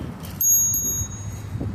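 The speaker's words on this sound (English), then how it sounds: "I have a little bell now that works and people hear it." A bicycle bell on a moving bike rings twice, bright and close, over steady road rumble and wind noise.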